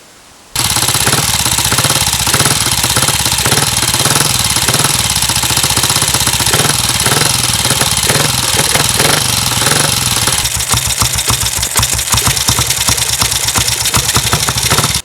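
A BSA C15 motorcycle engine running abnormally runs loudly and continuously with a harsh, rapid, uneven clattering pulse, close up, with no voices.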